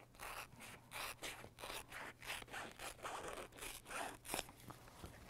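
Sharp scissors snip steadily along a marked line through regalia material, a run of close, crisp rhythmic cuts repeating about every half second with no talk.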